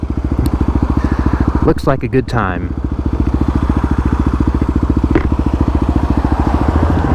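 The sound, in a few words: dirt bike motorcycle riding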